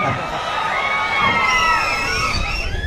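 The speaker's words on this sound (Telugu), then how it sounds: "ఒక్కసారి గట్టి చప్పట్లు కొట్టి" Lively outdoor crowd cheering, whooping and children shouting at a public event at Komati Cheruvu lakeside in Siddipet, a steady noisy roar throughout with no clear applause claps standing out.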